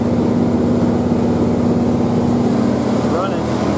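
A car engine idling steadily right after a transmission install, loud and close with a constant low drone that stays even throughout, a slight rev shift near the end.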